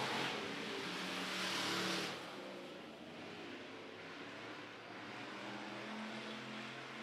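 Hobby stock race cars roar around a dirt oval at El Paso County Raceway, a steady loud engine drone that swells over the first two seconds and then settles into a broad continuous rumble of passing cars.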